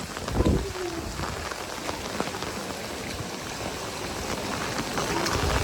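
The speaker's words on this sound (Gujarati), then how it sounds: "જો પવન ચાલુ થઈ ગયો જબરજસ્ત, બહુ મસ્ત એવો વરસાદ પડી ગયો." Heavy first-of-season rain driven by strong wind, a dense, loud steady hiss of drops drumming on surfaces close by, with a gusty rumble and a brief thump early on.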